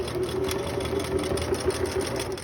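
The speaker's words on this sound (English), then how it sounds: "Now in this part, you do want to back stitch because you're sewing over elastic." A sewing machine back-stitches over elastic while making a DIY face mask, a rapid, steady mechanical chatter close by with no talking.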